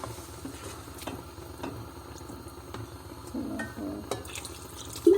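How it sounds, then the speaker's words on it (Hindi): Lukewarm water poured from a glass into a pot of chana dal while it cooks in a home kitchen, a steady liquid splash with a few clinks, then a louder splash near the end. "मैं इसके अंदर तकरीबन 3 गिलास पानी के डालूंगी"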